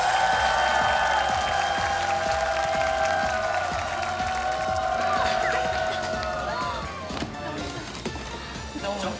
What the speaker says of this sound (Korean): 응원의 박수를 부탁드립니다.